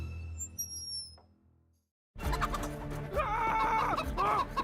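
Clucking and gobbling poultry sounds from Counter-Strike, a brief bird call first, then a moment of silence before denser fowl noises over a musical background.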